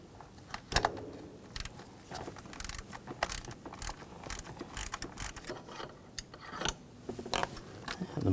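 Ratcheting clicks of an E6 Torx socket backing out screws on a 2006-2010 BMW 550i 4.8L V8 during valve cover work, short bursts of close mechanical ticking and clanks spread across the clip without talk.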